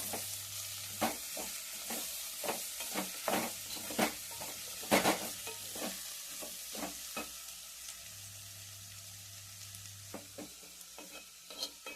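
Chopped ivy gourd fries in a spiced oil tempering with a soft, steady sizzle, while repeated spatula scrapes and taps against the pan mark the stirring, quiet and close with no talking.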